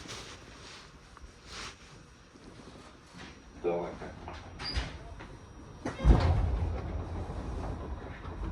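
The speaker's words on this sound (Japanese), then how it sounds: "閉まるドアにご注意ください。" Sliding doors on a JR Karatsu Line train sliding and thudding shut amid cabin rumble and a door-closing announcement, followed by the low, steady hum of the train.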